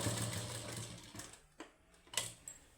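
A sewing machine runs steadily while stitching falls onto a saree, then stops and gives a few short mechanical bursts.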